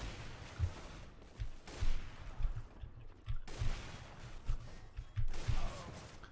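Scattered gunshots in CS GO, sharp low thumps at irregular intervals over a quiet in-game background, fairly faint and spread across several seconds.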